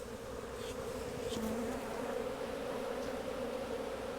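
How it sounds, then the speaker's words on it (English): A swarm of honeybees drones in a steady, dense buzz, close and continuous, with individual bees flitting past the microphone now and then. "She just went back in there, and these bees are going in there"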